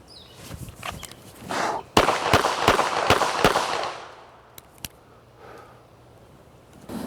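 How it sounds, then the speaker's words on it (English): Five sharp gunshots ring out at a shooting range in a failure drill, three and then two in quick succession, loud and close with echoing decay, followed by a couple of fainter reports. "We're gonna shoot 3 rounds center mass"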